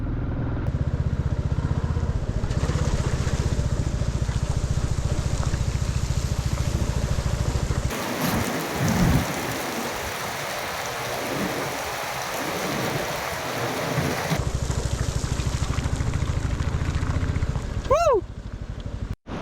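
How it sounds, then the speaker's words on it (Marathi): Roadside waterfall on the Himalayan route from Dharchula to Gunji, heard as a steady rushing roar that grows rougher midway, mixed with engine rumble and ending with a short rising whistle. "वॉटरफॉल आहे इथे"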